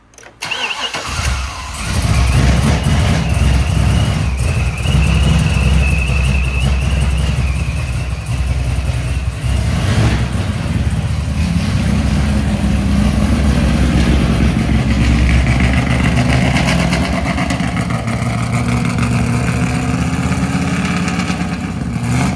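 A C6 Corvette with a newly installed centrifugal supercharger cranks briefly, fires up and settles into a loud, steady, rumbling idle that carries on close by with no talking.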